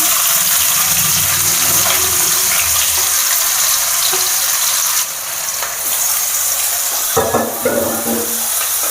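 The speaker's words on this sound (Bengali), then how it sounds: "পেঁয়াজটা তাড়াতাড়ি নরম হয়ে যাবে আর ভাজাও হয়ে যাবে" Chopped onions frying steadily in a pan for a Bengali yogurt chicken dish, a continuous loud sizzle with hiss and occasional stirring clatter throughout.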